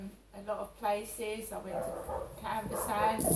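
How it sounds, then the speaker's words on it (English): A dog barks and yips several times in the background while a person keeps talking over it. "that's my neighbour's dog barking."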